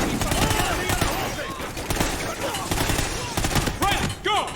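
Gunfire in the Call of Duty Ghosts video game, a short burst of rapid shots and impacts in a tense firefight, loud and close over game music and effects, with voices in the mix.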